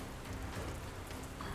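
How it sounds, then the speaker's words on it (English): Steady rainfall drops from a stormy sky in a fantasy tabletop campaign scene, a soft, even patter that holds constant without breaks. "as the rain begins to drop from the sky"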